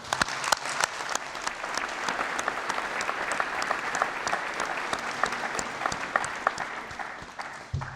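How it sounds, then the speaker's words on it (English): Sustained audience applause at a summer university graduation ceremony, dense steady clapping from a large crowd filling the hall throughout with no pauses. "I'd like to take a moment to give them all a round of applause"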